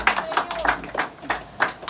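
A church congregation claps hands in praise, a steady rhythmic run of sharp, moderately loud claps in even bursts with no voices over it.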